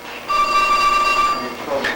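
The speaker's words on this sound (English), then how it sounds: "Ignore the phone, ladies and gentlemen." A telephone rings once with a single steady electronic tone lasting about a second, loud and close in a workshop where an aircraft canard and elevators are being built, with a brief voice near the end.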